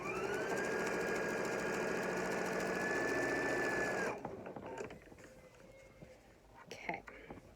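A sewing machine stitches a fabric face mask in a steady, fast continuous whir for about four seconds, then stops, leaving quieter handling noises and some faint talk.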